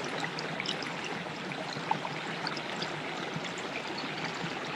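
A small stream runs steadily along its course, a continuous broadband rush and trickle of water holding an even level throughout with no voices.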